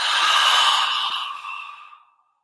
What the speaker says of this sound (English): Exhale, mouth.